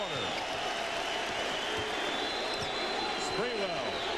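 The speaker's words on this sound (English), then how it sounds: "Crowd on its feet for the final seconds of the third quarter." Basketball arena crowd during a Knicks vs. Heat 1999 playoff game, a steady roar with scattered applause under an announcer's commentary, with sneakers squeaking faintly in the background.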